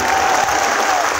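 An audience at a Gurjar community rally and closing ceremony in Gwalior, Madhya Pradesh applauds with steady, dense clapping that fills the whole moment at an even, loud level.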